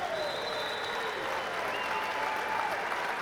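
A crowd at a college wrestling dual, North Dakota State vs Northern Iowa, applauds steadily as a dense wash of clapping, with faint whistles drifting above it.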